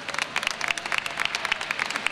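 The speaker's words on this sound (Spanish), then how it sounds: "Un aplauso para él" Audience applause in honour of the organizers and the councillor for festivities at the San Nicasio district festival opening proclamation, a brisk, even patter of many hands clapping with no talk over it.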